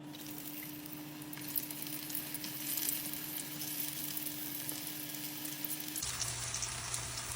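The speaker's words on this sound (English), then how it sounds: "we're just frying our potato skins in our 375 vegetable oil" Potato skins fry in 375-degree vegetable oil with a steady, crackling sizzle and scattered sharper pops, close and fairly quiet, with no voices.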